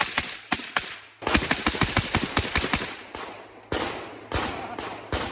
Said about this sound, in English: we've obviously done a good amount of shooting with this AK